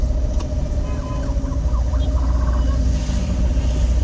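Steady road traffic with a continuous low rumble of cars and passing vehicles, a constant engine drone close by without any pause, and faint indistinct background voices.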